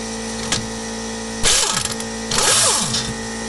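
A power tool whirring as it backs a bolt out of a BMW 3 Series shock mount, two loud bursts of rapid mechanical rattling over a steady background hum, close up with no talking.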